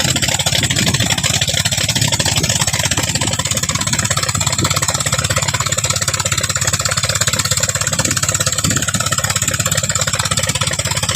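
A dredger machine's engine runs steadily as it cuts soil with pressurised water, a loud, continuous mid-pitched drone that holds level throughout with no breaks or talking.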